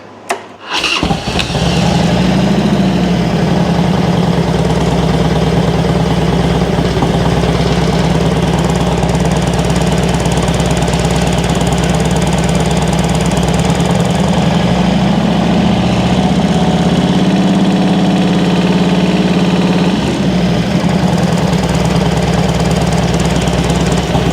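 A 1999 Harley-Davidson Road King V-twin engine runs steadily at close range for the whole stretch, a loud continuous throb with a low pulsing rumble and slight shifts in speed, with no talking over it.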